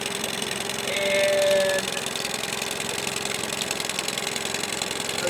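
A 2010 Yamaha 15 hp four-stroke outboard idles steadily nearby with a rough, vibrating hum, a brief tonal whine rising over it early on, and a single spoken word briefly heard.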